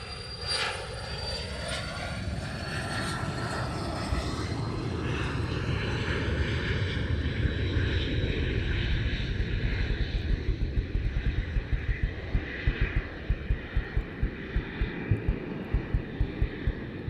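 A jet airliner takes off into fog at Luton Airport, its loud engine roar and whine sustained and slowly fading as it climbs away, with a rhythmic low thudding growing toward the end.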